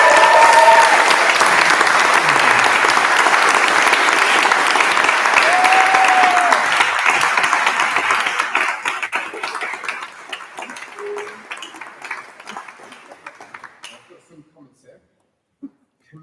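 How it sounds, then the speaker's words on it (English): Audience at an annual awards ceremony cheering and applauding a winner, loud dense clapping with shouts that holds for several seconds, then gradually fades to a few scattered claps and silence. "give the loudest cheer that you can for Camille Denton"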